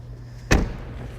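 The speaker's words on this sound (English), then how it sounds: "So let's go ahead and close the door of the car." A Tesla P100D's car door closes with a single close, solid slam against a low, steady background hum.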